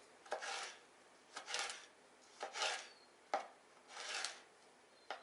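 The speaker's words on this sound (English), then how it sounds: "And then I cut in the strips, nice thin strips like so." A knife slicing prickly pear cactus pad into thin strips on a board, five or six crisp chopping strokes at an even pace, close and fairly quiet with no talk.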